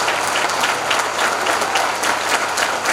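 An audience in a hall breaks into loud, sustained applause, dense clapping from many hands filling the space evenly throughout.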